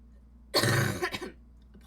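A single short throat-clearing cough, close to the microphone, rising abruptly from near silence and trailing off into a few softer rasps.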